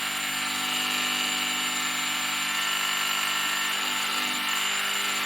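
A small drill boring a shallow pilot hole in O gauge model buffers, a steady high whine that holds level throughout, close and alone.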